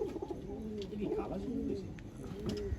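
Pigeons in a loft, including a young bird not yet flown, give soft repeated coos close by while a voice talks over them.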